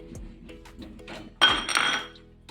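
Metal utensil scraping and clinking inside a pot while rice flour is stirred into boiling milk and water for ukadiche modak dough, with a few light taps followed by a short, louder burst of scraping.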